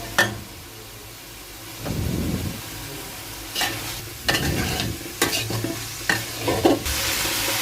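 Onions and sliced green chillies fry in oil in a pan while a spatula stirs and scrapes, bursts of sizzling and clattering scrapes coming in irregular strokes over a low steady frying hiss, close by with no voices.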